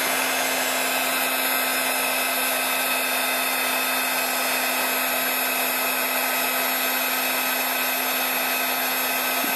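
Heat tool warming a Christmas card, a constant loud blowing whine with a steady hum that runs unbroken from start to finish.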